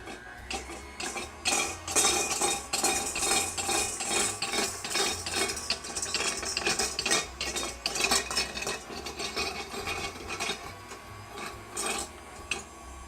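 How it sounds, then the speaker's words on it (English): A handheld spiralizer machine is cranked through a vegetable in a home kitchen, making a steady scraping, rasping churn with metallic clicks, close and continuous throughout with no talking. "And then we're just going to take and spiralize it."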